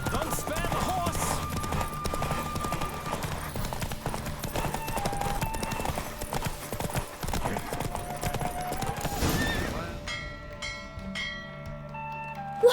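Rapid clip-clop of galloping hooves runs continuously under swelling music in The Witcher 3, then slows and stops as the music fades near the end.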